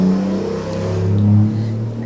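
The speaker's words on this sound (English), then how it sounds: "The car is very loud." A loud car passes outside, a strong low engine rumble that swells and fades over about two seconds, close and dominant.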